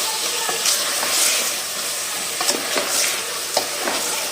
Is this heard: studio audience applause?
no